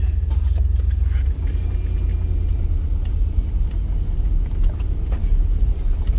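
A Chevy K1500 pickup's V8 engine idles with a deep, steady low rumble and faint rattles and clicks above it, heard up close without talk.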